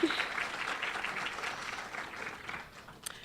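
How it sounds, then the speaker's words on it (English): Audience applause for the sponsors at a national tourism luncheon, soft and somewhat distant, a steady patter of clapping that gradually thins out toward the end. "Let's give them a round of applause."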